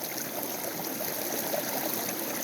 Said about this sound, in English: just play around with the water flows and the angle of your sluice